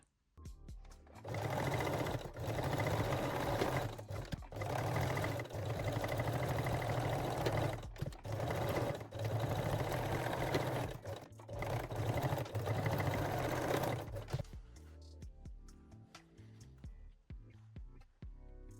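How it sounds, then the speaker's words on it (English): A sewing machine runs in long steady bursts, stitching the centre front of a lingerie bralette closed, with brief pauses between runs before stopping near the end. "And to the center front, I am sewing it closed."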